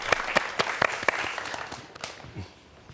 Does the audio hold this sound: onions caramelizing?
no